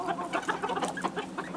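Bantam chickens and roosters, including a naked neck white silkie, cluck steadily inside a coop, with overlapping close calls and short bursts rising in a busy, continuous chorus.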